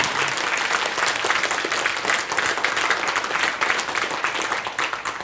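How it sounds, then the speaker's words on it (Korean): Sustained audience applause at a health seminar, dense and even clapping from a crowd that fills the room at a steady loudness throughout. "박수."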